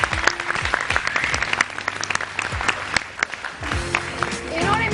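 Studio audience clapping on a Pakistani morning TV show set, a steady wash of applause mixed with background music and someone talking over it throughout.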